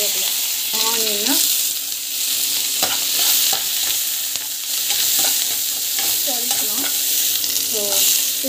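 Chana dal, urad dal, green chilies, curry leaves and onion sizzle steadily in hot oil for mango rice, close and loud, with a spoon scraping and stirring through them again and again.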